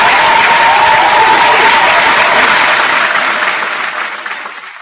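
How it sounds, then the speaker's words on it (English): A crowd gives a loud, dense round of applause that holds steady and then fades away over the last second or two. "A round of applause for that."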